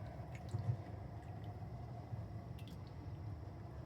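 Water poured into a pan of smothered pork chops in onion gravy, a faint liquid trickle with soft drips and squishy bubbling at steady low level, no talking.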